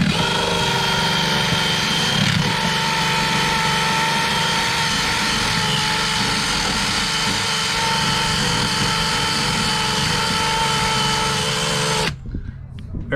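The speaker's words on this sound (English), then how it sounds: "this is the only tool for removing decals. The whizzy wheel." A decal eraser wheel on a power tool strips decals from a Hunter sailboat, giving a loud, steady high-pitched whir for about twelve seconds before cutting out, with faint rustling afterward.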